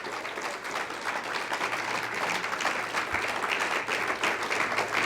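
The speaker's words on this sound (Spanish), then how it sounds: "Denle un aplauso." A congregation at a Spanish-language Christian church service breaks into applause, a dense, continuous wash of many hands clapping at moderate volume for around five seconds, with a faint low hum underneath and no speech on top.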